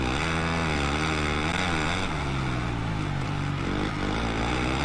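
A motocross bike engine held at high revs in second gear during a Lommel, Belgium race in MXGP 2021, a loud, steady, buzzing drone with slight pitch wobbles and no talk.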